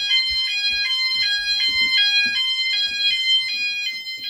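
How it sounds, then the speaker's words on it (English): A loud EMS 5000 Firepoint home fire alarm sensor sounder blares close by during a system test in a rapid, repeating pulsed tone with no talking. "Sensor sounder is even louder than the wall sounder."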